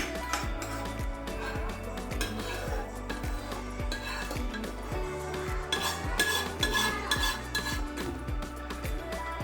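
Shahi paneer is scooped with a metal spoon from a pan into a serving dish: repeated close clinks and scrapes of utensil on cookware in a steady rhythm, with faint voice in the background.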